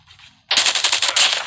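After a brief quiet moment, a loud, rapid machine gun burst rattles out in Call of Duty, with evenly spaced shots and no talking.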